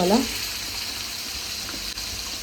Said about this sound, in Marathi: एक साईडला आपली मच्छी कालवणसुद्धा होते, एक साईडला आपली फ्राय होते